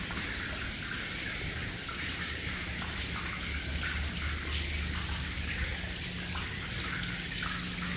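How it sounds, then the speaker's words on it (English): Water running down both sides of a water garden on Narrow Street in Limehouse, London: a steady, soft rushing and trickling flow, continuous and even, heard alone. "Water runs down both sides there"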